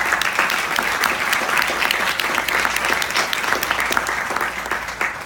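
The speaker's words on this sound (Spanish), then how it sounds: "Recibámoslo con un fuerte aplauso" A seated audience at a book presentation on masculinity and organized crime applauds warmly, with dense, steady clapping that runs without a break and fades only slightly toward the end.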